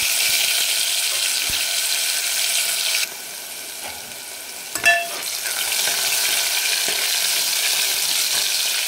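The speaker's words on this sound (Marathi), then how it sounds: "कांदा आपल्याला गुलाबी करायचा नाही, फक्त सॉफ्ट करून घ्यायचा। 1 मिनिटभर फक्त परतून घ्यायचं।" Onion softening in hot oil in a pan with cumin and asafoetida, a steady close sizzle with a brief clatter of stirring partway through, no talk.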